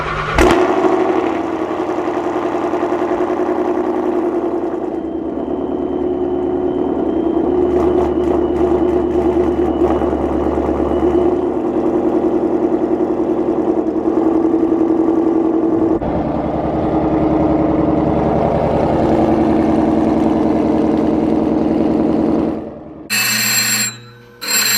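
Built, sleeved 2020 Ford Mustang GT500 engine on a cold start, a loud, rough high idle that holds steady with slight shifts in tone, then cuts out near the end.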